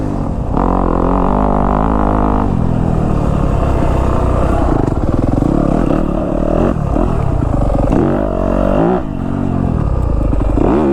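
Yamaha YZ250F Monster Energy Edition dirt bike engine under riding load, a loud, close, continuous four-stroke drone that rises and falls with throttle, dipping briefly around the bumps and then pulling hard again.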